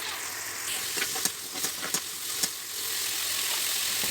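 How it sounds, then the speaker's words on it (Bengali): Ginger garlic paste and spices fry in a pan with a little water, giving a steady hiss broken by a few soft clicks of stirring, close and fairly quiet. "সামান্য পানি দিয়ে মশলাগুলোকে ভালো করে একটু ভেজে নেব"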